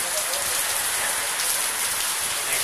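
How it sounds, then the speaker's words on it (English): Steady rain falls in Karad, a dense continuous hiss of drops spattering on surfaces, loud and even throughout with no pauses and no talking. "Now it is raining."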